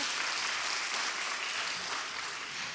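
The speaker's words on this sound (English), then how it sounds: "Everybody give a round of applause for Sam." Steady applause from an audience, a dense wash of clapping that holds evenly for a few seconds at moderate volume.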